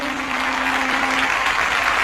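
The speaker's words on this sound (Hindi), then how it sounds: "जोर से ताली बजाएं, परमेश्वर का धन्यवाद करेंगे।" Loud, steady clapping from a congregation at a Christian morning prayer meeting, a dense continuous wash of hands with a held vocal tone fading out partway through.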